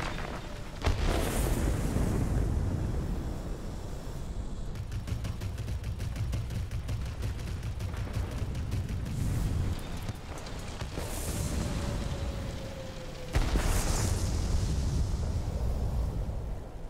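Bombs exploding in the World of Warplanes video game, several deep booming blasts with rumbling aftermath over a steady aircraft engine drone, loud and without talk.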